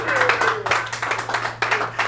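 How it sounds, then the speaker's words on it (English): Audience applause at a televised comedy show, a broad wash of steady clapping lasting a couple of seconds with brief swells, heard without distinct speech over it. "You know who's applauding the hardest?"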